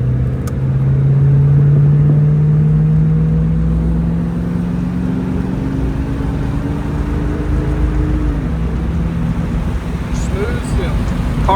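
A 1964 Ford Mustang convertible with a 289 V8 accelerating, a steady engine drone that rises in pitch through the gears under heavy wind rush, loud and continuous from inside the open car.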